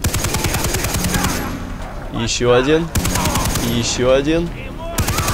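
A machine gun in the video game Far Cry 3 fires in rapid, loud bursts. Pauses separate the bursts, and someone speaks briefly between them.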